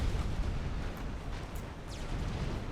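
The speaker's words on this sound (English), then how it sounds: "Actually gonna start bombing the tanks." Bombers dropping bombs on tanks in a real-time strategy game match, a dense rumbling barrage of low explosions rolling continuously with a few faint higher whooshes over the top.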